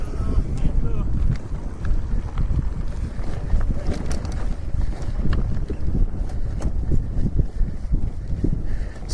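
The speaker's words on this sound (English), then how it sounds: "That wind's still strong even though we've dropped down." Strong wind buffets the microphone on a mountain bike ride descending from a Lake District ridge, a loud continuous low rumble with gusty swells throughout, rustling and knocking mixed in.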